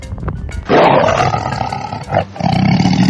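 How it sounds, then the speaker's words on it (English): A loud, deep tiger roar bursts in after a brief quieter start, rumbling and sustained for a couple of seconds, with a second swell near the end. "Tiger roars."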